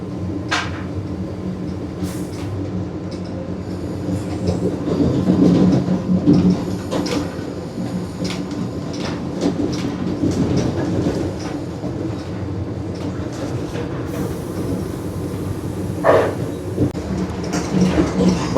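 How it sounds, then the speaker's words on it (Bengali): Vande Bharat Express 22301 runs on the rails from Howrah toward New Jalpaiguri near Malda, heard from inside as a steady rolling rumble with rhythmic rail clicks and occasional sharp knocks and rattles. "বন্দে ভারত এক্সপ্রেসে যাচ্ছি"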